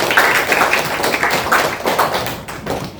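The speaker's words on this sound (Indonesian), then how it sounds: "tepuk tangan untuk semuanya" Pupils in a classroom clap their hands together after a geometry transformation lesson, a dense, steady patter of hand claps with a few sharper taps standing out, fairly close and loud with no talking.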